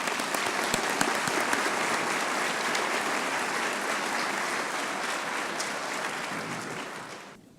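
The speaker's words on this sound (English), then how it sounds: "If we could get a round of applause for this group." Steady, full applause from an audience at a 2018 scholarship reception honoring recipients, continuous and even for several seconds before tapering off at the end; no talking over it.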